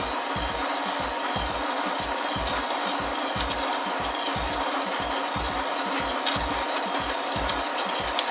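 A metal lathe fitted with a new frequency drive cuts slowly at about 3 Hz, producing an even rapid train of low rhythmic chattering thumps under a steady broadband hiss.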